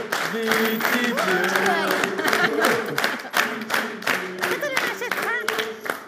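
A studio audience on a TV show claps to welcome the guest Bichichi, steady scattered applause throughout, with voices talking over it.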